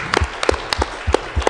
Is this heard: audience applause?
yes